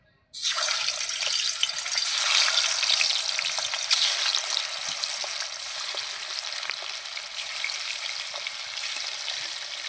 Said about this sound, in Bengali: এখন আমি মাছগুলো সব কটা মাছ ভেজে নেবো